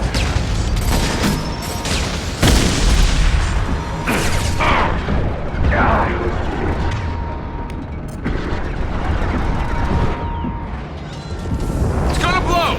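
Gunfire and explosions fill a firefight in the video game Mass Effect 2. Loud, near bursts of shots and booms come in dense clusters with mechanical clatter, while voices talk over the battle.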